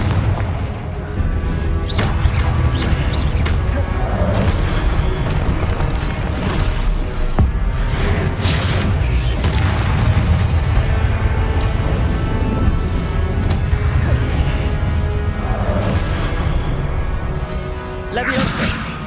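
Confringo blasting spell from Hogwarts Legacy going off in combat: repeated booming explosive bursts and whooshes in quick succession over a dense, loud battle soundscape, with several strong blasts spread across the clip.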